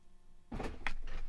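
The powered rear trunk of a Tesla Model Y opens after a long button press, heard as a brief latch clunk and short mechanical whir close by in a quiet cabin.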